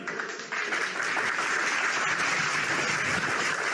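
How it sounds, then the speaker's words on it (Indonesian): An audience at an Islam–Christianity religious debate breaks into steady, dense applause that fills the room, sustained evenly at moderate loudness throughout without talk. "Oke, tepuk tangan dulu."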